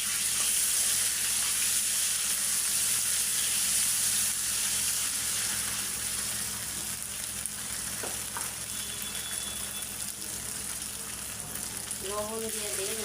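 Ginger, garlic, green chili and onion paste frying in a pan, a steady loud sizzle with occasional stirring scrapes throughout.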